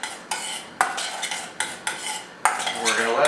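Sharp clinks of a utensil against a bowl while stirring a salmon mixture seasoned with fresh ground pepper and red onion, six or so distinct close taps separated by brief scraping swirls, with no voices.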